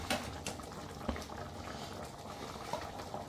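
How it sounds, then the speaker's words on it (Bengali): Chicken curry gravy bubbling in a pot for a chilli chicken dish, a steady close simmer with soft pops and a few sharper clinks, no talking. "আমাদের ঝোল ফুটে গেছে"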